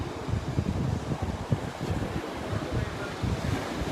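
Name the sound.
ocean wave breaking on beach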